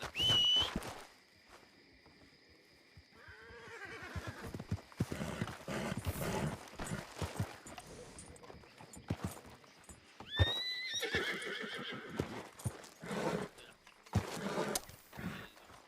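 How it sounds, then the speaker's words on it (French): A horse whinnies with a high, shrill neigh at the start and again midway, while irregular hoof clip-clops and scuffing steps sound close by, fairly faint and uneven throughout. "J'appelle le cheval."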